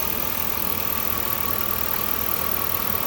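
2004 Chevrolet Suburban engine idling quietly with a faint injector tick over a steady low hum, close and alone.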